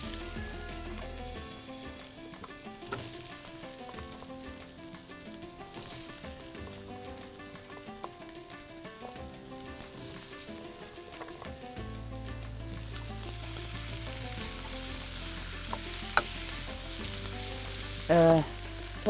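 Vegetables sizzle and fry in a pot with softened onions for a Moroccan vegetable tagine, a steady close crackle that continues throughout, with occasional stirring clinks near the end.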